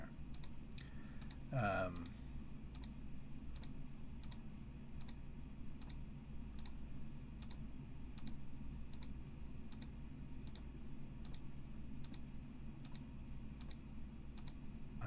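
Regular, evenly spaced computer keyboard clicks tap steadily through a Minecraft stream, set over a constant low room hum, with a brief burst of speech near the start.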